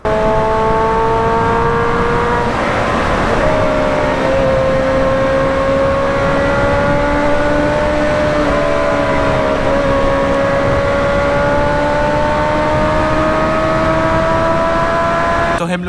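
A modified Suzuki Hayabusa with a loud aftermarket exhaust drones steadily at cruising speed, its engine note rising and settling slightly under heavy wind rush, loud and continuous throughout, recorded from the rider's position.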